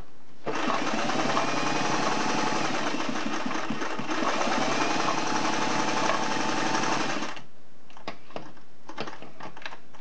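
A Singer 503A slant-needle zigzag sewing machine runs in one steady, fast mechanical clatter for about seven seconds, close and loud, then stops, followed by a few scattered clicks and taps.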